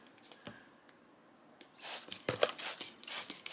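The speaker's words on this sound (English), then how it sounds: "Just put a couple of squirts of it on the brass." Dillon spray case lube is squirted onto .45-70 brass cases in short hissing bursts, a few close, sharp sprays after a quiet start with light handling clicks.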